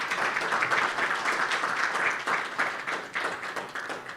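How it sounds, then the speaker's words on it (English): An audience claps steadily through an event on democracy and digital innovation, forming a dense, continuous patter at moderate distance that thins slightly toward the end. "Another round of applause, kindly."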